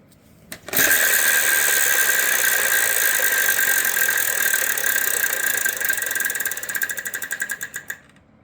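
Spinning the big Wheel of Fortune wheel at the 1995 Walt Disney World tapings produces a loud, dense run of pointer clicks that gradually slows into separate ticks and halts after about eight seconds.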